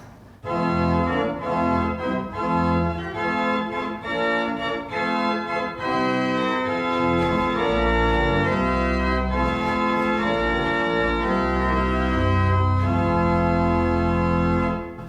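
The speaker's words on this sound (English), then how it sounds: "So here is adding just the sesquialter to the chorus." A full pipe organ at Morville Church plays an 8, 4, 2 chorus with the sesquialter stop added, bright and reedy. Sustained chords move steadily and loudly with rich, buzzy overtones and no voices.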